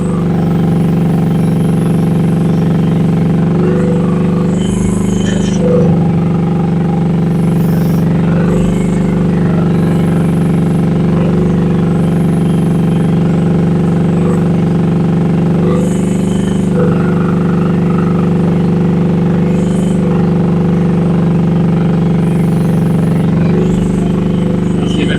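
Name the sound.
Rippa R10 one-ton mini excavator operating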